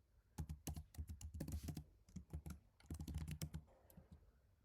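Rapid keystrokes on a computer keyboard come in two quick, dense bursts separated by a short pause, close-miked and clear with no voice over them.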